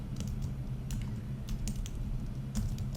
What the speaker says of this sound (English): you can type in an address